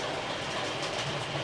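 A model train runs on its track past a set of points, making a steady, soft rumble and clatter that stays fairly even throughout.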